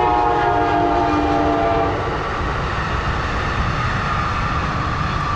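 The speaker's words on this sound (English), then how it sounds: "That would be Amtrak." An Amtrak passenger train passes near the Indiana Dunes, its horn sounding a loud, sustained multi-tone chord for about two seconds before the steady roar and rumble of the moving cars continues.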